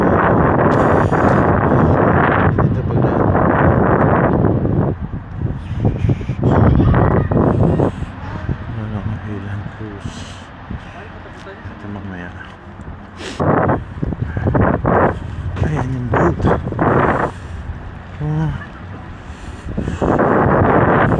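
Wind on a cold, rainy day blows as a loud, steady broadband rush that buffets the microphone throughout, with gusts rising and falling and brief speech underneath.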